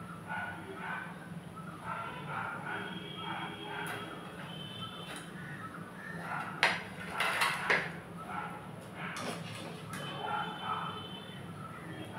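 Metal cookware clatters and scrapes as golden-brown fried bread for bread halwa is lifted from the pan into a vessel, with scattered clinks and a few sharper knocks over a steady background hum.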